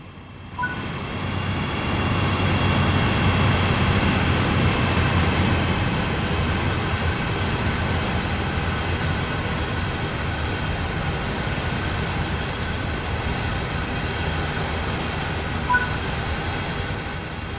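A steady, loud rumble of a train running along the tracks on the Sand Patch Grade route in Train Sim World 3, exterior view, with a constant high whine and hum held throughout and no talking.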